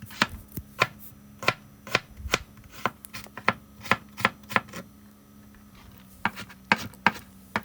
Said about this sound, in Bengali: গাজরটা একটু মিহি করে কাটতে হবে।